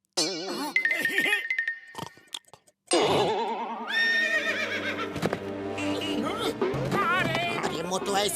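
A cartoon horse whinnies in a high, wavering neigh, with clip-clop hoofbeats and jingling effects mixed in; a voice calls out between the horse sounds over busy animated-show audio.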